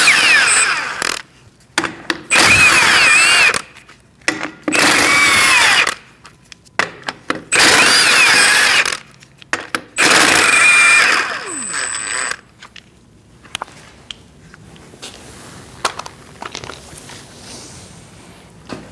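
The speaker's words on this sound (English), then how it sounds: "Using the same size, we're going to remove our lug nuts." A power tool removes the wheel lug nuts from a 2006-2011 Chevrolet HHR in a loud, close sequence of about five short bursts of buzzing and rattling, separated by pauses with small clanks.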